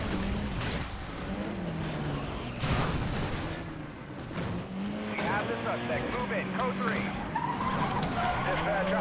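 A race car accelerates and skids through Need for Speed: Most Wanted (2012), its engine droning with tire squeal over it, while someone talks over the gameplay throughout.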